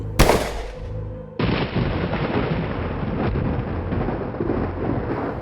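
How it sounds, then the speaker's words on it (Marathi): A single loud gunshot fired into the air, a sharp close blast with a rumbling tail that cuts off, followed by steady broadband noise like heavy rain. "बचावाचा निष्फळ प्रयत्न करून पहावा म्हणून मी हवेत एक गोळी झाडली"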